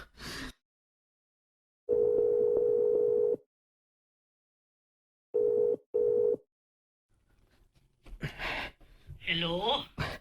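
Telephone tones ring out in steady repeated bursts, one long and then two short, over a quiet line, followed by gasps and voices near the end.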